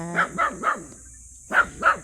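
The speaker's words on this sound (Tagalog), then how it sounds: "Nagagalit ang aso." An angry dog barks at a fenced farm boundary: three quick sharp barks, a pause, then two more, close and loud with no talk over them.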